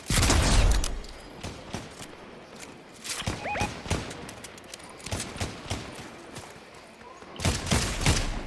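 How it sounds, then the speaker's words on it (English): Gunfire in a Fortnite match comes as scattered sharp shots and short bursts throughout, loud and fairly close, with a couple of brief tonal game effects and no talking. "Alright, they're shooting at me now."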